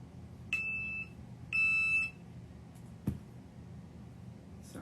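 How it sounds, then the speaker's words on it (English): A daughter's alarm goes off in bursts of shrill electronic beeping, two sustained beep trains separated by a pause, followed by a sharp knock and quieter room noise. "that's my daughter's alarm"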